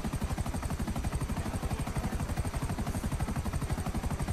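A helicopter flies over Los Angeles in GTA V Online, its rotor beating in a fast, even pulse that stays loud and constant from start to finish.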